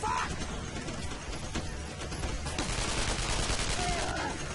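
Rapid bursts of gunfire in the video game Code of Honor 3 crackle steadily throughout, dense and continuous, with faint game-like effects mixed in.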